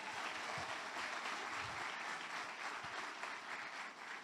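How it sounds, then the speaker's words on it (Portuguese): Church congregation applauding at a worship service, a steady dense wash of clapping from a large crowd throughout, loud and sustained without pause. "Pode aplaudir."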